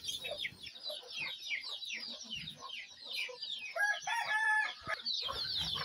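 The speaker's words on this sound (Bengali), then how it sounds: "এখন যে মুরগিগুলা ছাড়তেছি ওই মুরগির বাচ্চার বয়স হয়েছে ২৫ দিন।" Chickens on a poultry farm, among them 25-day-old chicks being let out, cluck and chirp in a dense, continuous flock chorus, with a few louder calls standing out near the close.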